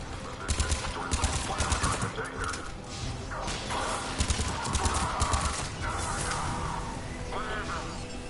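Gunfire in the video game Mass Effect 3, repeated bursts of shots and crashes spread across the whole stretch, moderately loud, with brief voices mixed in.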